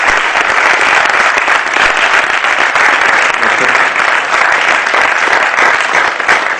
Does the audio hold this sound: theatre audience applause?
yes